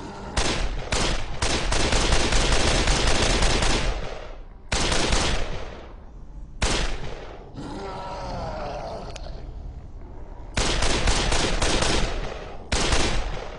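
Gunfire in the video game Dead Island: loud, dense bursts of automatic shots come in several rapid volleys, broken by short pauses where grunts and groans from creatures are heard.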